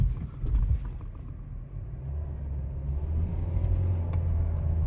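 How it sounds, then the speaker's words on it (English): A 2025 Nissan Versa with a CVT accelerating hard, its engine droning at a steady high pitch that swells slightly louder toward the end, close and without any talking. "the engine is gonna scream with the CVT, but the speed is not going up too much"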